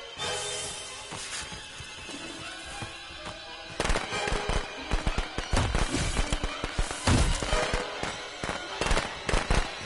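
Firecrackers popping in the survival horror game Friday the 13th, a dense run of sharp cracks and bursts that grows louder partway through over steady game ambience.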